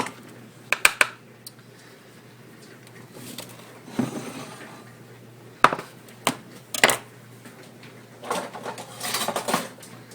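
A knife cuts a pan of brownies into chunks, giving scattered clinks and scrapes against the pan in irregular bursts, fairly close and moderately loud with quiet gaps between.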